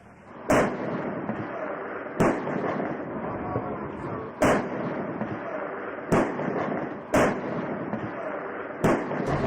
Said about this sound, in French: les canons du vaisseau et du château ont fait trembler la ville et le public